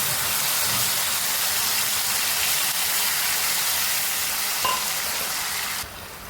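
Tomato paste hits hot oil in a pan for a chhana curry and sizzles loudly and steadily, a broad close hiss that holds for several seconds before easing near the end.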